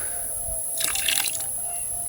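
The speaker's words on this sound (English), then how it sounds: "We'll add some hot water." Hot water pours into a container, a brief splashing trickle that rises in the middle and fades, faint against a steady background hum.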